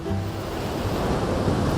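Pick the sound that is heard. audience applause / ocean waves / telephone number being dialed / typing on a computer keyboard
ocean waves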